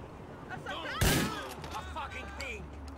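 Gunfire in GTA 4: one loud, sharp shot bursts out over game ambience, with voices talking before and after it.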